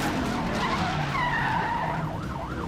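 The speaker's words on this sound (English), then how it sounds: "The shot sends the suspect skidding onto the shoulder." During a highway police chase, the suspect's car skids onto the shoulder. Tires squeal loudly with wavering pitch over a continuous roar of engine and road noise, with no talk.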